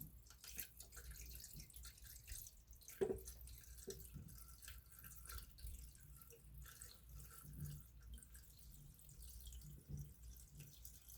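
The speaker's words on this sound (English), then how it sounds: "now I'm going to try to lift my water thing and fill it up to the fill line" Water poured by hand from a container into an AeroGarden reservoir, a faint, steady trickle and splash with occasional drips and small knocks, quiet and close with no talking.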